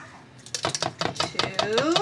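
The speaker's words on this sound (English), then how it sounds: "You keep mixing, please. You're my mixer." A spoon stirs peanut butter in a bowl, giving a quick run of light scraping taps and clinks against the bowl. The stirring sounds close, and a voice speaks around the sound.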